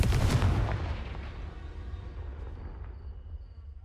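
A booming Confringo spell explosion in the Hogwarts Legacy video game hits hard at once, then rumbles and fades away over a few seconds.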